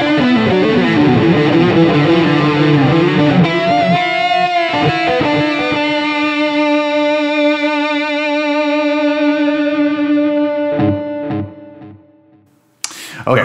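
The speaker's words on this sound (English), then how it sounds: "a delay, a simple delay, and into spring reverb" An electric guitar through a Line 6 Helix plays distorted, sustained notes and chords drenched in echoing simple delay and springy reverb, ringing out then fading to a brief silence.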